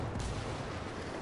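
A grenade blast in a video game: a loud, broad roar of explosion and rumbling debris filling the whole moment, quickly reaching full force and holding steady.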